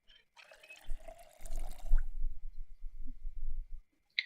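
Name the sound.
filling a saucepan with water in video game Project Zomboid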